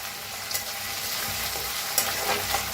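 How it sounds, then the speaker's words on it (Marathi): Ground ginger, garlic and green chilli paste fries in hot oil with a dense, even sizzle, a few light stirring scrapes rising briefly above it. "हिरवी मिरची लसूण बारीक असं वाटून घेतलं होतं बघा ते बी छान असं भाजून घ्यायचं"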